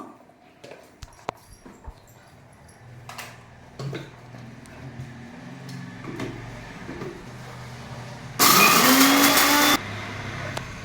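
A kitchen mixer grinds dry red chillies and salt in one loud roaring burst of about a second and a half near the end, preceded by scattered clicks, clatter and low background hum.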